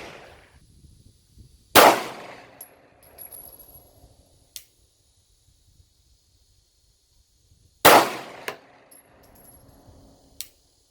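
Two loud, sharp Glock 19X pistol shots fired from a bench rest, spaced about six seconds apart, each followed by a short decaying echo and faint clinks of brass landing.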